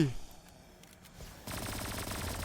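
Rapid automatic gunfire in the Roblox zombie-survival game Undead Mayhem, bursting in suddenly after a quieter stretch and continuing as a loud, dense rattle to the end.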